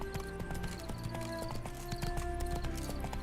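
Horse hooves clip-clop at a steady walking rhythm in The Witcher 3, close and clear over a tonal game music bed, with no talking.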